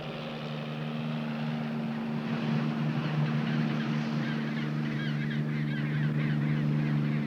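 Magellanic penguins at a South American colony give goose-like honking brays, a steady chorus of calls running throughout at moderate distance, with a low engine-like hum beneath.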